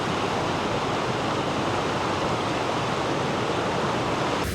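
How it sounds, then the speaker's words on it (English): Sabbaday Falls, a double waterfall that is actually a triple turning a corner, roars in a steady, loud, broadband wash of falling water, constant throughout with no voices. "You got a double waterfall here."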